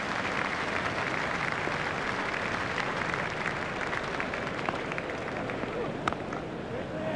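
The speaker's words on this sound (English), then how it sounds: "Astle raises his bat to the crowd to acknowledge the applause" Cricket stadium crowd at a New Zealand versus Australia match applauding a batsman's half century, a steady wash of distant clapping and cheering that holds throughout.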